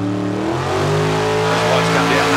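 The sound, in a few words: drag racing car launching down the track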